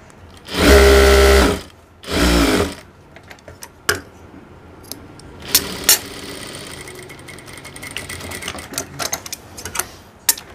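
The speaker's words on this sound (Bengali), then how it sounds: "আমাকে এখানে একটা সেলাই দিতে হবে" Sewing machine stitching a pant pocket, two short loud close bursts of running motor followed by quieter handling clicks and taps of fabric and tools.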